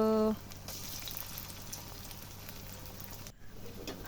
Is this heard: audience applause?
no